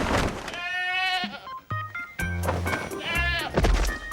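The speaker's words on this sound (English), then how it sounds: "All right, Carrie, these are the male goats." Male goats (bucks) bleat repeatedly at close range, loud wavering calls following one another with short gaps, the sounds overlapping in a noisy farm setting.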